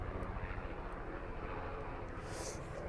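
A helicopter flies overhead near an outdoor campsite fire pit, its engine a continuous, fairly loud droning roar with no talking.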